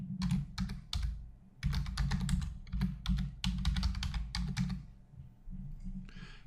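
Fingers tap out a name on a computer keyboard in quick, irregular bursts of close, crisp keystrokes, with brief pauses between runs and a steady low room hum underneath; no one speaks.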